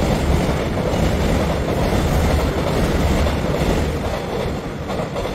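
A local train bound for Incheon pulls out of Guil station on an elevated track, its loud, steady rumble of wheels on rail filling the whole stretch with a constant rolling clatter.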